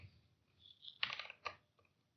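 Soft computer keyboard typing while writing C code, a few scattered quiet key clicks and short bursts at an irregular pace, close and faint.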